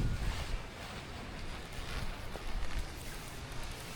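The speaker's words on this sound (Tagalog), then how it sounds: "may mga biglang lakas ng hangin dito" Steady, fairly low gusting wind buffeting an open hillside campsite at a windmill viewpoint in Tanay, Rizal, with a rushing, breathy texture that swells in brief surges and never drops to quiet.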